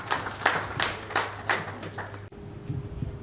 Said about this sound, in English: A disruptive round of applause for him.